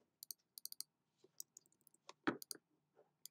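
Keys on a computer keyboard are pressed, including the delete key, giving a scattered series of light, close plastic clicks with short gaps, and one slightly heavier tap midway, in a quiet room.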